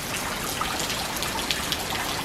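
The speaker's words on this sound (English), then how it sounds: "It's raining so much." Heavy rain pours down steadily in Charleston, a dense, even hiss of drops close by with scattered louder splashes and no talking.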